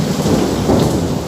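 Thunderstorm with heavy rain and a low rolling rumble of thunder, a dense continuous wash of loud rainfall close by with no voices.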